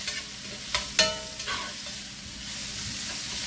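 Veggies seasoned with a teaspoon of black pepper are stirred in a pan, giving a faint steady sizzle with a few soft scraping knocks near the start, alone without talk.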